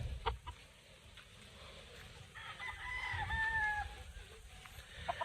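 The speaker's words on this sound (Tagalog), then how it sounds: "Ito po yung isa natin brood stag." A brood stag rooster gives a single faint crow in the middle, heard at a distance against quiet outdoor background noise and a few soft knocks.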